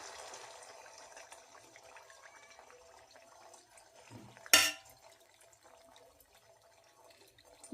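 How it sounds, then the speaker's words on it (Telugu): Batter drops from a ladle into hot frying oil with one sudden, loud splash and sizzle midway, set against a quiet kitchen background. "ఇప్పుడు ఈ గంటెతోటి నేను ఇందులో నూనెలో వేస్తాను."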